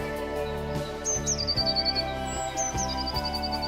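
A woodpecker's song heard outdoors: two bright descending call phrases ring out over a steady hum, fairly close and clear.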